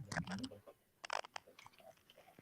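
Loud, crunchy chewing in two close bursts, with bites and crunches clustered near the start and again in the middle, fading to softer munching toward the end.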